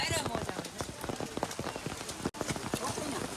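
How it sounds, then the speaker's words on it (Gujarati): Steady rain pattering hard on a surface on Girnar mountain, dense irregular drops throughout, close and fairly loud, with a brief dropout partway through. "વરસાદ ચાલુ છે અત્યારે"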